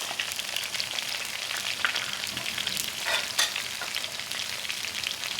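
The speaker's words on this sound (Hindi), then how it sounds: "अब इसके अंदर मैं ये लहसुन अदरक का पेस्ट डाल दूंगी" Garlic-ginger paste frying with chicken in a karahi pan for chicken karahi, a steady dense sizzle with stirring scrapes running throughout, close and continuous with no talking.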